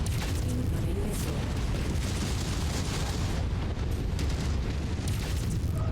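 A missile blast in the MechWarrior 5 video game rumbles as a dense, sustained explosive roar with low booming texture, moderately quiet and continuous across the moment, with no speech over it.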